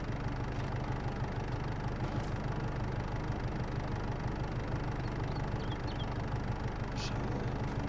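A tractor fitted with a front loader idling in a farming video game, a steady, dense mid-to-low engine rumble running unchanged throughout with no talk.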